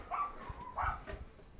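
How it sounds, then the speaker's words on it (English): Dogs bark in two short bursts, distant and fairly faint, against a low rumbling background at a big-wave surf spot. "that noise of those dogs barking"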